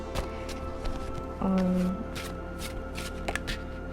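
Tarot cards riffle and flutter continuously up close, a soft papery shuffling with a brief low hum midway.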